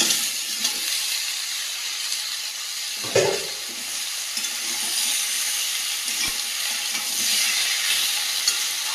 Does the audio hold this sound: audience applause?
no